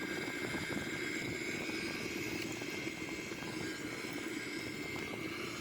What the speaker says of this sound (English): Here we are, we take off.